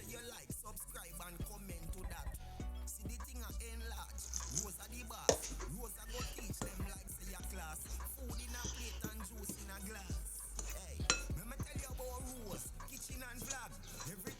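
A spoon working flour and cold water into dough for Jamaican fried dumplings in a bowl, with irregular scraping taps and clicks up close and faint background noise.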